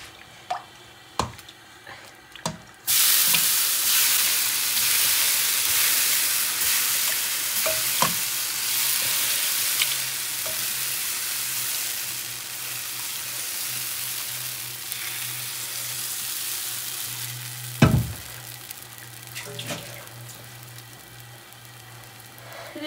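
Pitha sizzles steadily in an uncovered frying pan, a loud continuous hiss of hot oil broken by a few clinks and scrapes of a utensil.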